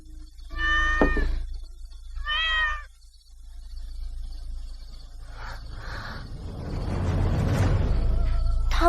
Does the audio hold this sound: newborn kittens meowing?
yes